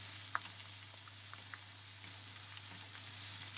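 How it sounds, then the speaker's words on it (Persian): Ground meat and onions sautéing in a pan, a soft continuous sizzle with small scattered pops and light stirring taps, close and fairly quiet. "کمی تفت میدیم"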